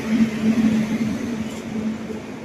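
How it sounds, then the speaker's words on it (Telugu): A train pulls into a station with a steady low rumble and droning tone, loud and close at first and gradually easing off, with no talking over it. "ఫైనల్గా ట్రైన్ అయితే వచ్చింది."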